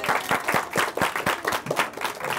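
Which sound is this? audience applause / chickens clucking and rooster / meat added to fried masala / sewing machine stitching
audience applause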